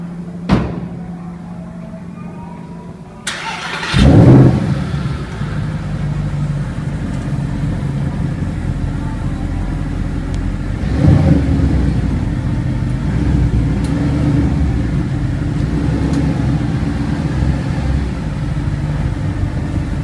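A Porsche at a Birmingham supercar spotting event thuds shut, then its engine starts and settles into a steady rumbling idle and drive-off, swelling again midway and holding a loud continuous drone with street ambience.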